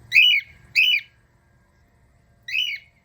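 Crows squawk nearby in loud, harsh bursts: two calls in quick succession, a pause, then a third, with quiet surroundings between them.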